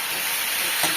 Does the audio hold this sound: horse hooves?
no